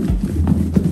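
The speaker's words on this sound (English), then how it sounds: "make sure it's secure, because once you get to shaking, the meal is everywhere, and you shake it" A short burst of dull rattling and thumping as catfish is shaken hard in cornmeal in a closed container, rhythmic and close.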